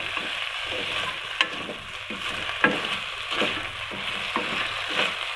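Cauliflower and potato sautéing in a pan with salt, a soft continuous sizzle with periodic scraping stirs of a spatula, close and unaccompanied by talk.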